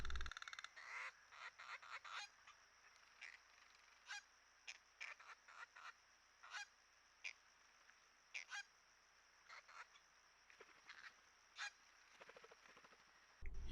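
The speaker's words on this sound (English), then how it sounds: "Very distinctive and raucous call from the tree pies." Raucous, harsh calls of treepies at a forest pool in Huai Khayeng Nature Park, Thailand, coming in irregular bursts of grating notes separated by short pauses over a faint background, fairly close and with no talking.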